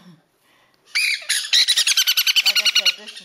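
A baby Jenday conure parrot squawks close by, starting with a couple of harsh calls and then breaking into a rapid, loud run of about a dozen evenly spaced rasping squawks.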